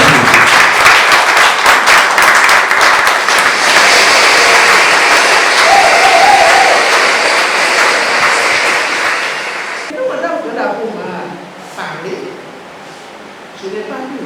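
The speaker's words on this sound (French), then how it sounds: "Applaudissez très très fort." At an NGO's fifth-anniversary celebration, an audience claps loudly in a dense, sustained burst that gradually thins out, with the hall settling into quieter sounds and scattered voices toward the end.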